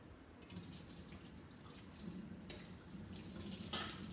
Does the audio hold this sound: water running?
yes